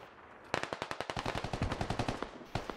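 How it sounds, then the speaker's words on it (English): Rapid automatic gunfire in the Squad video game, a burst of about twenty sharp shots in quick rhythm, fairly close and loud, with a single shot trailing at the end and no talking. "Getting shot from downhill."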